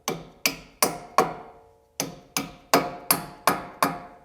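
Brake pad retaining pins are tapped into place on a V12 BMW E31 850i, with nine sharp metallic hammer strikes in an even rhythm, a short pause after the fourth, close and clear with no talking.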